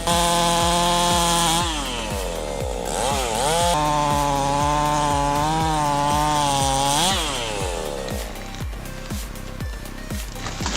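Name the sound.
ported Husqvarna chainsaw cutting Australian peppermint wood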